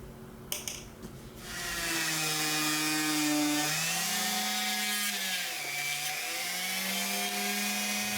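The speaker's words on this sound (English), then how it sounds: "I have a Dremel tool here, which I'm just going to drill and enlarge these holes." A high-pitched Dremel rotary tool whines steadily, its pitch dipping and rising as it drills and enlarges holes in 3D-printed plastic, preceded by a few short clicks.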